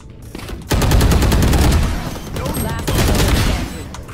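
Rapid automatic gunfire from the video game Valorant bursts out in two long sustained volleys of dense, loud shots, with voices talking briefly.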